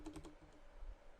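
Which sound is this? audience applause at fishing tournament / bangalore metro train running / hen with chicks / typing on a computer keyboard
typing on a computer keyboard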